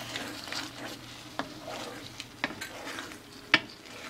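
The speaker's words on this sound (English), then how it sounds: "We better start stirring that up." A utensil stirs sesame shrimp stir-fry in a pan, scraping and clinking against the metal in irregular, close strokes with a soft sizzle underneath and one sharper knock near the end.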